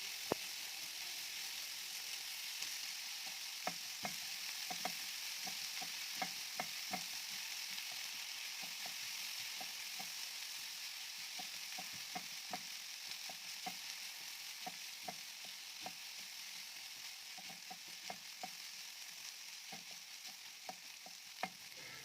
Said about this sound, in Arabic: هننزل بيهم على الفراخ ونبدأ نشوحهم برضو لحد ما يتبلوا برضو مع الفراخ.